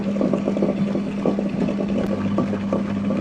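A wet grinder grinding soaked urad dal, a continuous motor hum with a rhythmic churning, sloshing texture from the stone turning through wet batter, close and steady with no speech.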